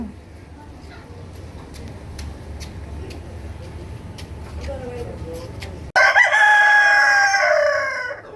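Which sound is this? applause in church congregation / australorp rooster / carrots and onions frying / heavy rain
australorp rooster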